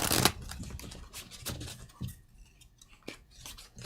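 Riffle shuffle of a deck of game cards during a tabletop board game session, a quick burst of crisp flutters and taps at close range, with no talking.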